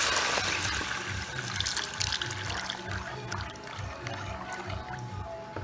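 Four cups of milk pour steadily into a cooking pot for a scalloped potato pie, a continuous close liquid splash and trickle lasting several seconds with low background rumble.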